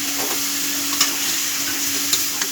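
Radishes drop into a pan of sautéed fish, shrimp among it, raising a steady close sizzle with a few soft clinks and stirring scrapes, no voices.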